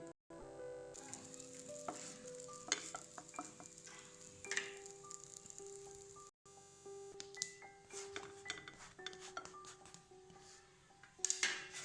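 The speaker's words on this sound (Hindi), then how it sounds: "हम बिना तेल घी के सेक रहल छी पराठा के" A tomato and sattu paratha dry-roasts on a pan with no oil or ghee, giving a soft, steady sizzle with small ticks and a faint tonal hum behind it. The sound cuts out briefly midway.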